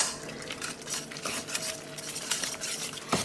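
Soaked bread squeezed of milk is worked into ground meat for Lithuanian kotletai, giving a steady, close, wet squelching and mixing with light clinks of a utensil against a bowl throughout.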